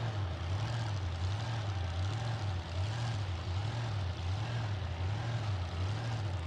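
Idling Nightmare Mustang drag car with a blown alcohol engine, a loud steady lumpy rumble with a rhythmic lope, continuous and close throughout.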